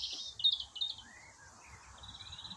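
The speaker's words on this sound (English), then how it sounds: "You can hear the green finches" Greenfinches twitter and buzz in short, bright bursts, fairly near, over a faint low rumble in an otherwise quiet outdoor setting.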